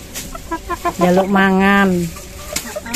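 A Bangkok fighting chicken gives a sustained cluck and squawk, close and loud, with brief speech before and after.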